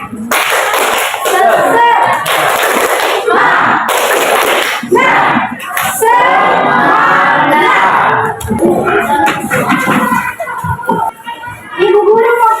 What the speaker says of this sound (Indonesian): Selanjutnya kita tepuk semangat dulu.